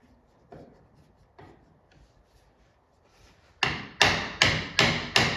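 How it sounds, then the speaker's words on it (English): Light taps start softly, then five sharp, evenly spaced hammer knocks ring out loud on a hollow metal 1964 Chevy Impala door being fitted. "Sometimes you have to tap these lightly with a hammer to get them to go up"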